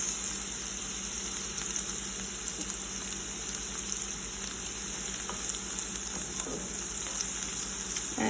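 Onions and shallot frying steadily in a pan over medium-high heat, a constant close sizzle and crackle with no pauses, fairly loud, under a faint steady hum.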